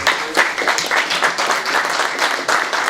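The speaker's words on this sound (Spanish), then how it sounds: "Démosle un fuerte aplauso" An audience claps steadily in a dense, even burst of applause for a speaker at a conference on crop pollination and varroa mite management in beehives. No voices are heard over it.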